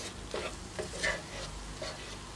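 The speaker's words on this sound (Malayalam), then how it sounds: "നന്നായിട്ട് മിക്സ് ചെയ്ത് കൊടുക്കുക" Prawn roast masala being stirred in a pan, a spatula scraping in a few steady strokes over a soft, continuous sizzle of frying, close and fairly quiet.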